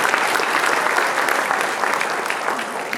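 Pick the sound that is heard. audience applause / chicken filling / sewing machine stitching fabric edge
audience applause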